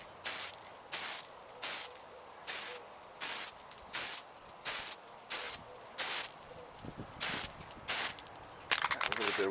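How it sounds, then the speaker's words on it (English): Short bursts of aerosol spray primer hiss repeatedly in an even rhythm, about a dozen quick sprays close to the microphone, priming miniature figures outdoors on a windy day. "go ahead and spray upward with the black to show the shadows."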